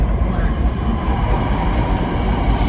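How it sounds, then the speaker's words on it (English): A Sydney Metro train bound for Chatswood rolls into the platform at Rouse Hill, a steady loud rumble of wheels and motors filling the clip without a break. "train to Chatswood is going to enter platform"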